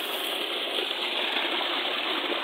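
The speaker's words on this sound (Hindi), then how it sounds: "ये है ट्यूबवेल जो शमसी तवानी पे चल रहा है" Water pours steadily from a solar-powered tubewell beside a guava orchard and vegetable fields, a loud, continuous, close gushing with no break.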